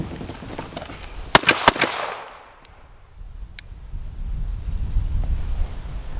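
Two or three sharp, loud pistol shots are fired close together at close range from the hip, followed by fainter pops and then a long stretch of low wind rumble with no talking.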